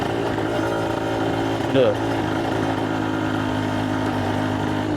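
Honda NSR RR two-stroke motorcycle engine running steadily with a buzzing, harmonic-rich drone that stays loud throughout, with a short vocal exclamation partway through.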